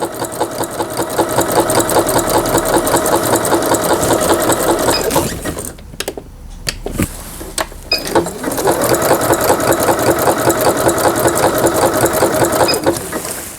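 Singer 7640 sewing machine running zigzag stitches, a loud, rapid mechanical chatter that pauses briefly in the middle and then resumes, with no talk.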